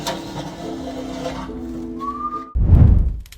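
A haunting whistle from a stranger in basement footage: one clear sustained whistled note held for about half a second, rising slightly, set against a low hum, then cut off by a sudden loud rumbling noise.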